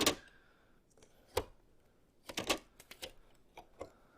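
Packing tape peeled off a new Canon PIXMA MG2522 printer, heard as a few sharp, close crackling rips with quiet handling noises between them, no talking.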